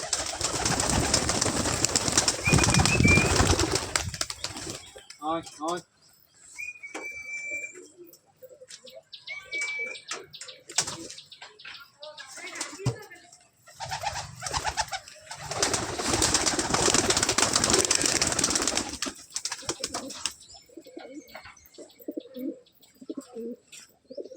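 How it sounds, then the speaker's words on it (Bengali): Pigeons coo and murmur close by, mixed with wing flutters and scuffling, in bursts of louder activity and quieter stretches. "সব পায়রাগুলো বেরিয়ে গেছে"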